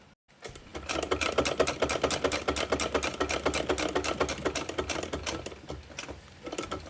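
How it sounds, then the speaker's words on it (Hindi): Close up, a sewing machine stitches a drawstring casing on a dress at a fast, even rhythm. The rapid ticking needle strokes run continuously for about six seconds with no talking. "अब इसे इसके अंदर एक डोरी रखकर इसे इस तरीके से सिलाई लगा देनी है।"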